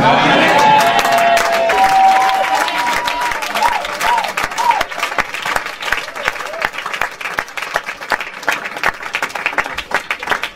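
Church congregation at an evening service clapping and cheering loudly, a dense roar at first that thins into scattered sharp claps.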